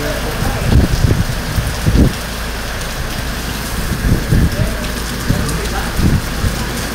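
Heavy rain from Typhoon Nardo pours steadily and loudly, a dense close hiss broken by low gusty rumbles and thumps.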